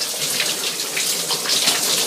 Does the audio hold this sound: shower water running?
yes